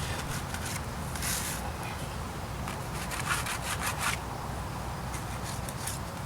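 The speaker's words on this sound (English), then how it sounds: "a lot comes off just scraping" Scraping grime off an 1884 marble headstone in a cemetery makes a repeated rough rasping, a run of close, dry strokes in an uneven rhythm over a low background rumble.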